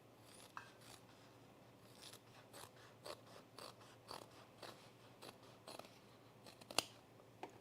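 Scissors snip through jeans fabric in a quiet room, a series of close, crisp cuts and blade clicks spaced irregularly, with one sharper snip near the end.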